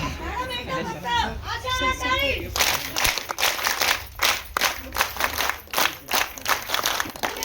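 A crowd at a film event in Nashik for the movie Asha breaks into rhythmic clapping after a few seconds of talking, the applause near and lively with voices underneath.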